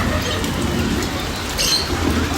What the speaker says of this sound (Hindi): बारिश जो है सिर्फ यहाँ पे है, जहाँ पे उन्होंने सिस्टम लगाया हुआ है